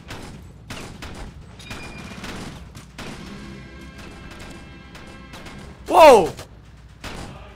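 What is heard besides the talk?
red Soviet gun firing in video game Ravenfield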